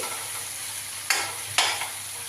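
Ginger and garlic frying in a pan, a steady low sizzle broken by two sharp bursts of hissing as the pieces are stirred, close and fairly quiet with no talking.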